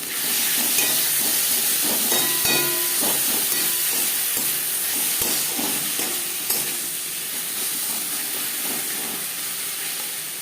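Onions fried with turmeric powder, salt, ginger paste and green chilli paste for a tilapia fish curry sizzle and hiss steadily, with a few scrapes of stirring cutting through the constant frying.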